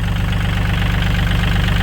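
A Kubota L3608DT tractor from 2011 idles with a loud, close, steady diesel chug, its rapid even knocking pulses continuous and with no talk.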